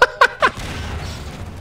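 Explosions in the video game Half-Life 2: three sharp, loud bursts in quick succession, followed by a fading rumble of debris and reverb.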